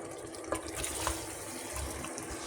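A cup of hot water is poured steadily into Libyan couscous in a home kitchen, making a soft, continuous splashing trickle close by.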